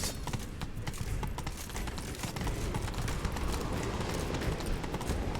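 Rapid, continuous hoofbeats of a galloping horse in the video game The Witcher 3 pound steadily over a dense wash of noise, with no pauses.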